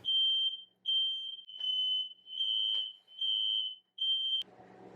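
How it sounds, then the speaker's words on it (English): A household smoke alarm beeps six times in a steady pattern, with short pauses between the shrill tones. The sound is close and alone, then it cuts off abruptly. "take a quick break because my smoke alarm went off"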